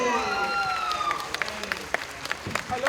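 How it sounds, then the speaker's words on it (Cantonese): Wedding guests at a ceremony break into scattered clapping and light cheering that builds over a continuous crowd murmur, with an announcer's voice and chatter over the top. "俾啲掌聲。 掌聲歡迎！"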